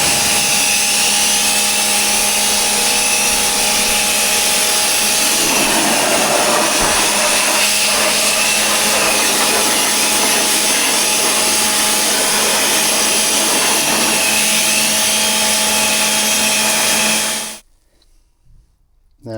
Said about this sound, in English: So let's go about now jet washing that off.